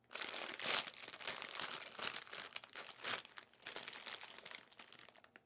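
A bag of Cheetos Crunchy Buffalo snacks crinkles loudly and steadily up close as the plastic is handled and pulled open, with sharp crackling bursts and no voices.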